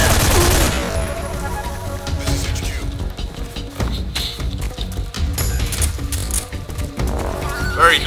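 Automatic gunfire from a high-rate, high-recoil weapon in the video game Metal Gear Solid 3 rattles in dense bursts with sharp cracks, loud and close, under some talk.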